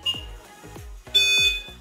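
An aftermarket CAN-bus alarm on a Mercedes W205 gives short electronic beeps as it is disarmed with the remote, one brief chirp and then a longer tone over a series of dull, repeated low thumps nearby.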